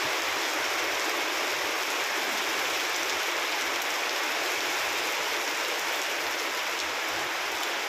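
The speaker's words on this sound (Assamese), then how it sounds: "বৰষুণ আহি গৈছে।" Steady, heavy rain hisses down without a break, a dense wash of falling water close by with no voices.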